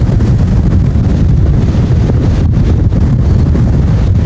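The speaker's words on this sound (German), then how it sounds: "Über unseren Standort geht so eine komplett trockene Böenlinie mit schweren Sturmböen hinweg." Heavy storm gusts from a dry squall line near Eindhoven, Netherlands, during a hailstorm, roaring continuously and loud as deep wind buffeting against the microphone with no pause.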